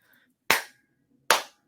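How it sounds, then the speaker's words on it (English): Two single claps spaced almost a second apart, sharp and isolated against near silence, a deliberate slow clap from an audience member at a Keller Williams Realty event. "Slow clap."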